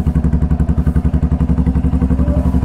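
A TVS Raider 125 motorcycle idles loud and close just after a cold start, its single-cylinder engine beating in a steady, even thumping rhythm with no talk over it.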